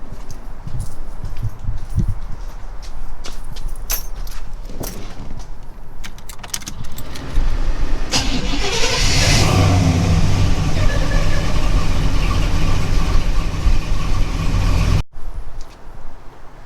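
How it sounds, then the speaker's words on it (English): A 1937 Ford Slantback engine turns over and catches after a coolant flush, then settles into a steady rumbling idle, with some clicks and rattles earlier on. "So let's go ahead and start the engine."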